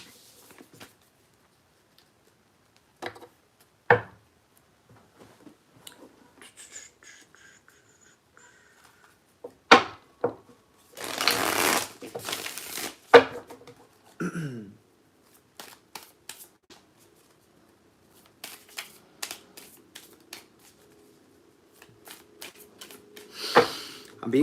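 Tarot cards being shuffled and handled at close range, with soft riffles, brisk flutters and light taps arriving in intermittent bursts between quiet pauses.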